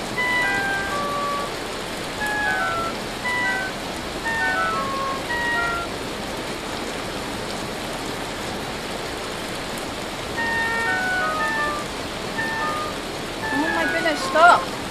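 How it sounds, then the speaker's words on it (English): Hail falling in the video game Vintage Story, a dense steady patter and clatter with scattered bright pinging hits, fairly loud and continuous throughout. "last time I was in hail, they didn't make this much noise."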